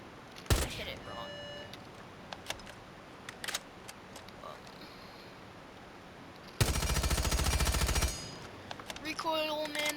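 Suppressed gunfire from Rainbow Six Siege: several sharp single shots spread through the clip, then a dense rapid burst of about one and a half seconds, over steady game background noise.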